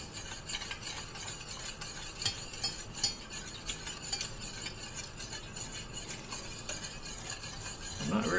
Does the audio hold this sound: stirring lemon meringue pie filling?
yes